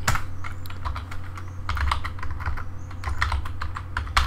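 Keys clatter on a computer keyboard in quick, uneven bursts of clicks, close to the microphone, over a low steady hum with no talking.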